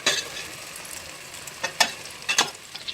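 Garlic sizzles in hot oil in a pan for chicken biryani, a soft steady fry broken by a few sharp scraping stirs of a spoon, close and moderately quiet.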